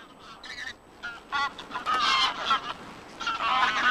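Greylag geese honk in the Volga delta, a flock calling in overlapping, irregular bursts of nasal honks, close and lively, with quieter gaps between louder clusters.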